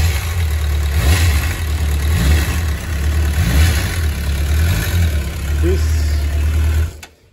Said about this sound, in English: So now the bike is on, the engine is warming up and rotating the system